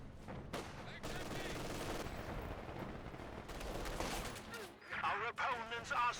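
Thompson submachine gun fire in the World War II strategy game Company of Heroes 2, rapid automatic bursts mixed with other battlefield gunfire and mechanical clatter, with a commentator talking over the action.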